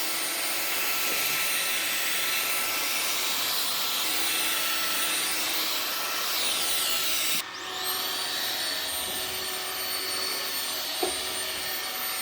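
A household vacuum cleaner runs at full power, a loud steady whine and roar that drops briefly and resumes with a slightly changed pitch after a click.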